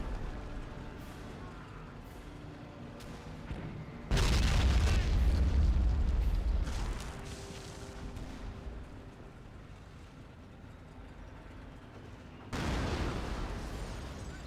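Mortar shells burst in Company of Heroes 2, giving two heavy booming explosions a few seconds apart with rumbling tails over quieter battlefield background noise.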